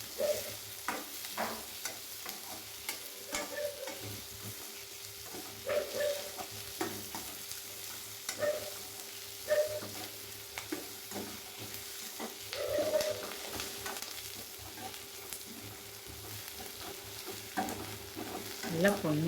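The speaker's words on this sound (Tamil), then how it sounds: "நல்லா எண்ணெயிலே வதக்கணும்." Garlic, ginger and green chillies sauté in oil in a pan for tomato onion chutney, with a soft steady sizzle under repeated scraping and clinking strokes of a stirring spoon, close by and with no talking.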